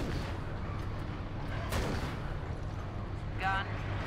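Heavy gunfire booms in the Warhammer 40k Space Marine video game, a couple of loud blasts against constant background rumble and battle noise, with a short metallic ring near the end.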